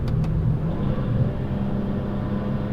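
A Stage 2+ tuned BMW 340i pulls hard on a canyon road, its engine a loud, dense low rumble that builds steadily through the whole stretch.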